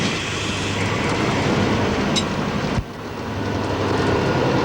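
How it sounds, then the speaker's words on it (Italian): A Gailtalbahn train rolls over a spring switch, a steady close rumble with a brief sharp clack partway through, then the running noise continuing without talk. "Il treno ora tallona lo scambio a molla."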